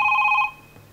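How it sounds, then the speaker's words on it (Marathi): A telephone rings on a Marathi comedy talk show stage: one short, loud electronic ring burst that cuts off after half a second, with no talk. "फोन फोन आलेला आहे."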